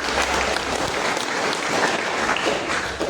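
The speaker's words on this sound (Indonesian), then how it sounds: "Mari kita berikan tepuk tangan." Wedding guests at a Catholic holy matrimony ceremony applaud steadily, a dense, even wash of clapping from a crowd that fills the whole three seconds without pause.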